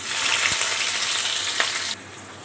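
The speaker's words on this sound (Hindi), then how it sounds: "ऑयल जो है वो गर्म हो चुका है, तो अनियन को ऐड करते हैं और प्याज को हमने गोल्डन गोल्डन सा ब्राउन कर लेना है" Onions sizzling in hot oil in a pan: a loud, steady frying hiss with a couple of faint knocks, easing to a quieter sizzle near the end.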